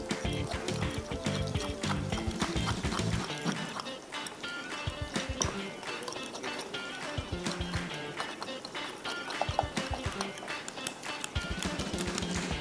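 Spice mixture for keema tahari stirred and mixed in a bowl, a busy close scraping and clattering texture with rapid irregular knocks, fairly loud and continuous.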